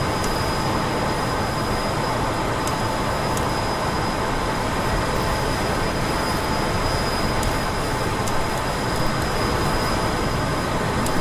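Steady roaring jet engine noise of an F-14 Tomcat during a catapult launch in the DCS flight simulator, a loud continuous broadband rumble with faint periodic clicks.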